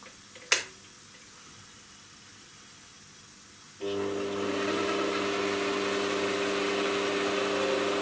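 Lathe motor spins up in forward, a sharp click early on, then a few seconds of quiet hum before a steady tonal motor whine starts abruptly and holds, moderately loud with no talk.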